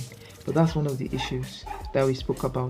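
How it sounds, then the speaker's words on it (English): A dog barks in the background while someone talks over it in the foreground. "I don't know if you guys can hear that dog barking,"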